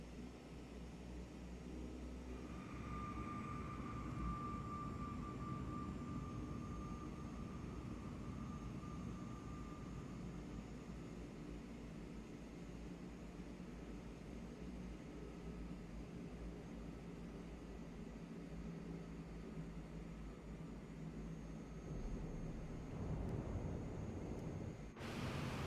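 A CL415 water bomber plane in Microsoft Flight Simulator 2024 drones with a steady engine hum, softly and continuously as it comes down to land on the water, with a faint wash of wind and surf.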